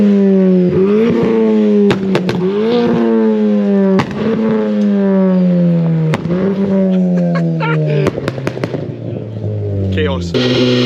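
At a high-boost dyno day on rollers, a car engine revs hard again and again, its pitch climbing and dropping in repeated loud sweeps. Sharp cracks and pops punctuate the revving, and a voice talks over it.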